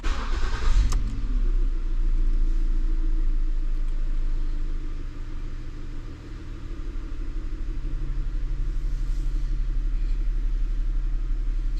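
A 2008 Ford Taurus with high steering effort, heard as a close, steady engine idle rumble with a low droning hum that holds evenly for several seconds after a brief start, with no voices.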